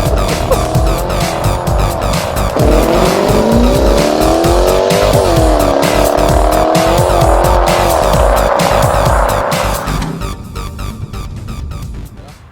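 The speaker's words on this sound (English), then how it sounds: "traction control into sport mode, gearbox into sport mode, left foot on the brake, hold it nice and tight, floor the throttle" Audi RS7 with a 4-litre twin-turbo V8 doing a launch-control start, a loud engine roar climbing through gears with shrill tire squeal over it for about ten seconds before it fades into the distance.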